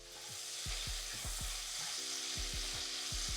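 Green onions sizzle and hiss steadily in a hot pan for a vegan butternut bisque, a constant frying crackle with low periodic thumps and clicks underneath, no voices.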